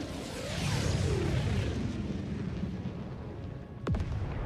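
Support weapon drop called down in Helldivers 2, a loud rushing descent and heavy booming impact, followed by rumbling blasts and a sharp whistling sweep near the end.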